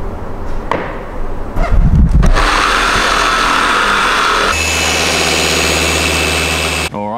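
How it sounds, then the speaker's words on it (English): A machine polisher buffing the paint of an Audi RS6 during detailing, a loud steady whirring drone that starts up after some handling noise, shifts pitch midway and cuts briefly near the end. "this is exactly why we go through this stage of buffing the paint to try and get out problems exactly like this"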